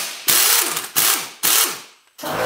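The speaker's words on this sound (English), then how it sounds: "with an impact gun, this thing just flies right off" Impact gun with a 17 mm deep socket removing a nut from the rear strut of a 2002 Mitsubishi Lancer, giving loud rattling hammering bursts in three close bursts and starting a fourth.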